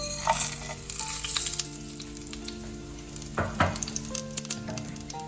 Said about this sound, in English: Roast them gently for 30 seconds, not more than that, because the oil is very hot.